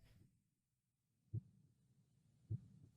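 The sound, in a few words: heartbeat sound effect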